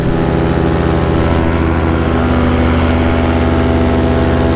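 Paramotor engine and propeller roaring steadily in flight, recorded at close range from a camera bolted beside the prop on the cage, a loud continuous drone with strong low harmonics and no talk.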